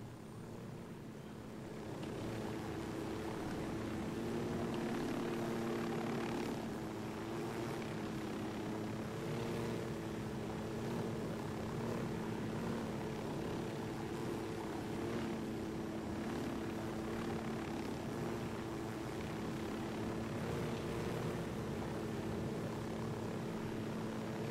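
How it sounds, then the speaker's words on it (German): Steady drone of a video game helicopter's engine and rotor in Ghost Recon Wildlands, humming continuously at an even level throughout with no voices. "Dazu leihen wir uns hier unseren altbeliebten Hubschrauber."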